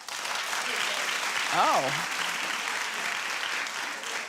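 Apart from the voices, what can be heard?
audience applause and clapping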